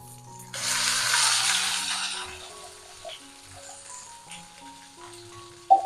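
Okra frying in hot oil with mustard seeds, urad dal and curry leaves starts with a sudden loud burst of sizzle that fades over a couple of seconds to a low crackle, with faint kitchen sounds and a brief clink at the end.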